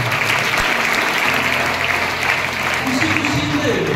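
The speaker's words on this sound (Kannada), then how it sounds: "ಜೋರಕ್ಕೆ ಚಪ್ಪಾಳೆ ಇರಬೇಕು" An audience at a talk on shaping children's minds claps loudly and steadily, a dense continuous wash of many hands with faint tonal sounds underneath and no pauses.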